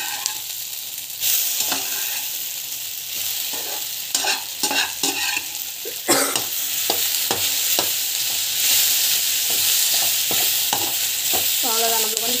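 Okra sautés in a pan with chilli powder and turmeric, a steady sizzle broken by repeated scraping and clinking stirs of a spoon against the pan, close up with no voices.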